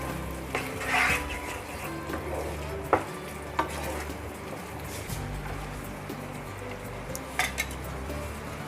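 A spoon stirs sugar into kaju makhana curry in a pan, scraping and clinking against the metal with a light sizzle and a few sharper knocks.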